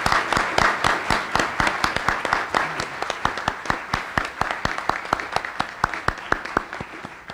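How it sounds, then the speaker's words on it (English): Press-conference audience applause for a staff member's promotion at an athletic director's introduction, with distinct, fairly close claps in a loose, uneven rhythm that gradually slows and thins out. "let's give Daniela a round of applause for her promotion"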